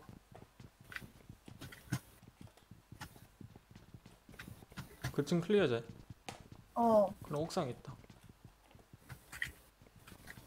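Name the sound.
footsteps in PUBG Mobile video game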